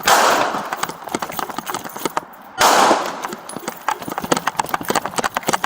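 Gunshots during a police officer-involved shooting, a rapid irregular string of sharp close cracks with a short pause midway, loud and chaotic over outdoor noise.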